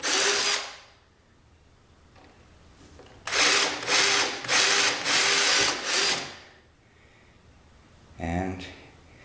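A handheld power drill bores through a surface to open a passage for track wiring, with a brief whir, then a sustained run of about three seconds that pulses as the bit bites, and a short final burst after a pause.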